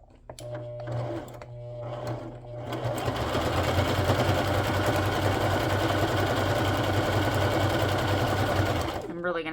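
A sewing machine runs steadily in a fast, continuous whir after a few brief starts, close by, with some talking at the beginning.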